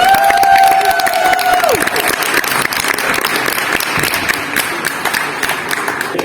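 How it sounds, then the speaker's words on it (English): Loud, dense applause and cheering from a seminar crowd carries on steadily for several seconds, with a brief electronic tone sliding away near the start. "Please give a huge, huge round of applause for Munir Al-Busaidi."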